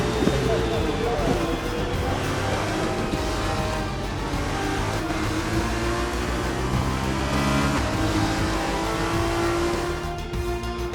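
An F2 race car from the Prema team in the F2 2021 video game rolls into parc ferme after a feature race at the Saudi Arabia Grand Prix. Its engine gives a steady, humming drone with layered harmonic tones throughout.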